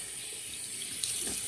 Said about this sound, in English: going to rinse off the face.